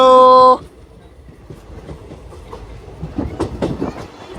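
A train rolls onto the Pamban bridge in India, a loud horn-like tone opening the scene before rhythmic clatter and rumble build steadily and grow louder toward the end, with no talk.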